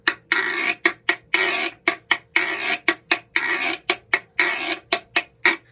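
A guiro is scraped slowly across its teeth with a mallet in a string of rasping strokes, some long and some short, in an even rhythm. It is close and moderately quiet, and no one speaks.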